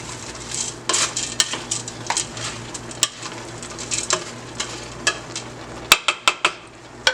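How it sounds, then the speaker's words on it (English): Thanksgiving stuffing being stirred in a pot, a series of close, irregular scraping knocks and clinks of the spoon against the pot with a soft sizzle underneath, the strikes growing sharper near the end. "just give this a good little stir"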